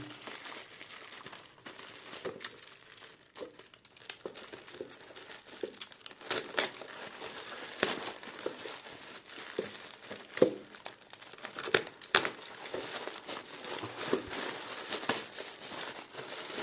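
A plastic bag of salvaged radio circuit boards and parts is crumpled and torn open up close, with continuous crinkling and sharp tearing crackles and no talking.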